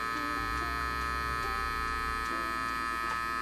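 Electric hair clippers hum steadily and close while cutting a taper fade, a constant buzzing drone with slight shifts in tone as they move across the head.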